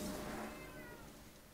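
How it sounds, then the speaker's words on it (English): A cat meows close by during a ranked jungle stream of a game, one drawn-out tonal cry at the start that fades over a second and a half. "Yes, that is a cat meowing."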